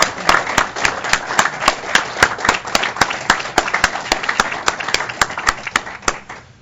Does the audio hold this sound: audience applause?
yes